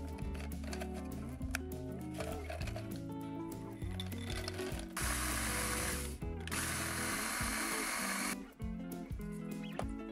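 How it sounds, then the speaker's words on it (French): Biscuits and hazelnuts being ground into crumbs in an electric chopper, loud close whirring motor with rattling pieces, pulsing on and off with a harsher, brighter burst partway through. "On commence par réduire en miettes les biscuits et les noisettes."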